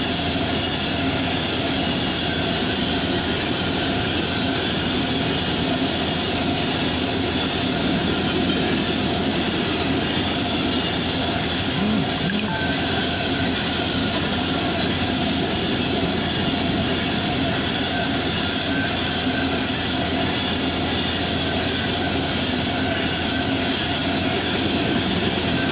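A westbound CSX tanker freight train led by CN locomotives in Erie, Pennsylvania, passing as a loud, unbroken roar of wheels and cars that holds steady throughout, with no talking.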